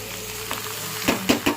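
Onions fry in a pan with a steady, close sizzle, broken near the end by a few soft stirring knocks; no voices.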